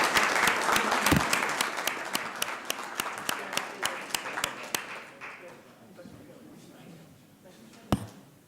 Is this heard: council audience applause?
yes